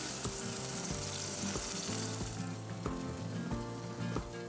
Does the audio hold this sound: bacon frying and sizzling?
yes